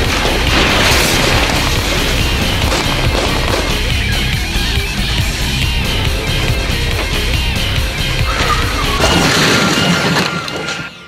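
A loud, sustained crash from an aircraft fuselage smashing through a film stunt on the 6th Street Bridge: a dense, roaring wall of impacts and scraping debris runs nearly the whole time, then cuts off abruptly at the end.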